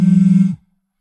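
A telephone rings briefly with a single loud, buzzing, pulsed tone for an incoming call from an unknown number, then cuts off into silence.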